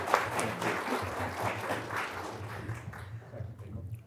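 Audience applause for faculty members marking 20 years of service at a university faculty awards ceremony, a steady mid-level patter of clapping that thins toward the end over a low hum.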